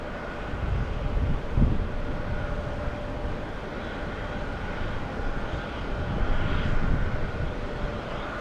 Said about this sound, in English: next takeoff. JetBlue to Fort Lauderdale.